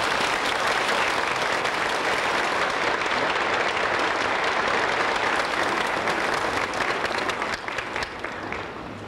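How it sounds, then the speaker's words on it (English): Dense, sustained applause from a large audience of international delegations at a morning conference session in Moscow, loud and steady throughout before easing slightly near the end. "each delegation could give a welcoming applause to the other two delegations"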